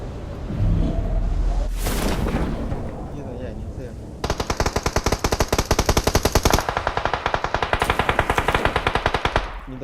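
Rapid automatic gunfire from PUBG Mobile, with a continuous rattling burst through the latter half after some earlier shots and noise.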